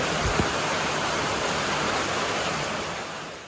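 A dense, even roar of heavy rain falls on a Malenad village, loud and unbroken broadband hiss that eases slightly toward the end, with no voices.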